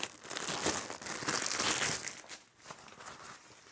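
A taped Christmas gift box from Engwe being opened, loud close crinkling and tearing of packaging in quick bursts, no talking.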